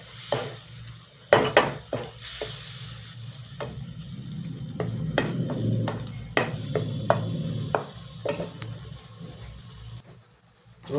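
Spice paste for an omelette onion curry is fried and stirred in a pan: a steady close sizzle runs throughout, broken by repeated scraping clatters of the spoon against the pan.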